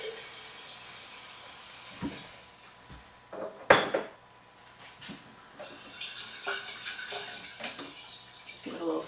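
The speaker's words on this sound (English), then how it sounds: "And then fill the jar about halfway with water." Water pours and splashes into a sprouting jar holding freshly rinsed seeds, with clinks of glass and kitchen clatter at moderate, uneven loudness and no talking.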